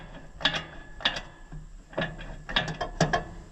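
Chain mechanism on a Great Plains 1006NT drill, driven from the wheel, grinding and clicking in repeated bursts about every half second, close and fairly quiet.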